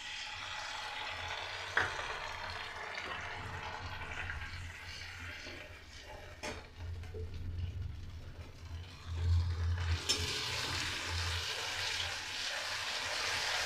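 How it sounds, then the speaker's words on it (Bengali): Cumin and ginger paste frying and stirred in a pan, heard as a close, steady sizzle with scraping and stirring noises, a couple of sharp knocks, and a brighter hiss toward the end. "জিরে আর আদা বাটাটা অল্প করে একটু নেড়ে হালকা করে ভেজে নিয়ে"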